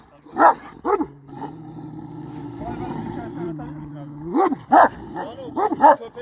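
Several sharp dog barks come in short bursts at the start and end, with a low droning engine-like hum sustained between them.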